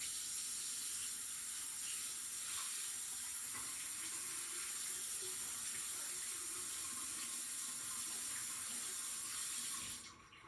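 Tap water pouring steadily into a laboratory sink while an evaporating dish is rinsed, a constant close hissing stream that cuts off abruptly at the end.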